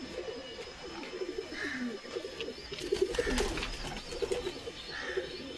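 Domestic pigeons cooing in a backyard pigeon loft, several soft overlapping low coos repeating steadily at close to mid distance over light chirping and ambient noise, no talking.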